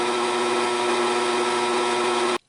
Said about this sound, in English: The drill bit is slowly gnawing through that thick piece of brass.